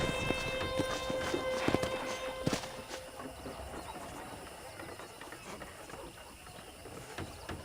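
Rhythmic clip-clop of horse hooves in Red Dead Redemption, steady and moderately close, with a game-like mix of background tones and faint voices.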